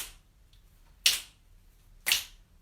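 Audience finger snaps at a choral singing workshop in Brussels: two sharp, moderately close clicks about a second apart, marking a steady beat with quiet room tone between.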